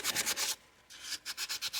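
Close-up sandpaper rubbing in quick back-and-forth strokes on an EAA Windicator revolver grip, a rough first sanding, with a brief pause partway through before the rhythmic scratching resumes.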